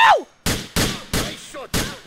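Gunshots in Grand Theft Auto IV, four sharp loud blasts about a third of a second apart, each ringing briefly, with a short vocal cry at the start and between shots.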